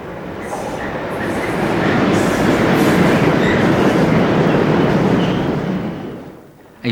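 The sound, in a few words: class 66 locomotive train through Dalston Kingsland station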